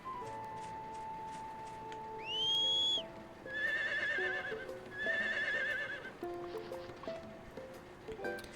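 A video game horse in Harvest Moon gives several whinnies in a row: a rising squeal, then two longer wavering neighs. Light hoof clops and soft in-game chimes play underneath, fairly quiet overall.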